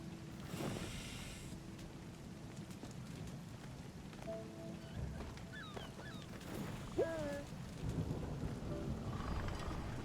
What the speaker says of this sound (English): Oh, it's another lightning storm.